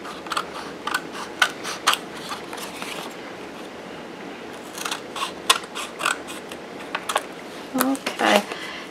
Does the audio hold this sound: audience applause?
no